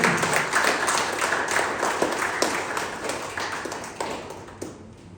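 A crowd at a Toastmasters meeting claps steadily, a dense wash of hand claps that holds throughout and thins slightly toward the end.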